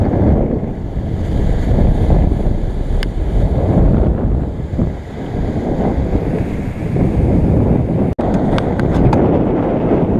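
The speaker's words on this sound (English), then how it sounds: "Surfing in 20 knots of wind." Strong wind buffeting the microphone and waves rushing past a sailboat surfing in 20 knots of wind on passage from New Zealand to Fiji under a double-reefed main, a loud, constant roar with a sharp click near the end.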